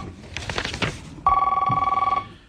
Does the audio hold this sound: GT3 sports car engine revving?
no